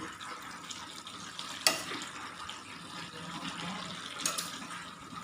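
Chicken pieces frying in their own released juices and oil in a covered pan, sesame seeds about to go in; a steady soft crackling hiss continues throughout with a couple of brief louder stir clatters.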